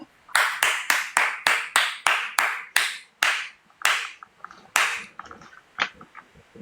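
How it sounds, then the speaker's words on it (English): Close hand claps come in a quick, even run of about a dozen, then slow into a few scattered, looser claps before fading out. "That deserved a round of applause"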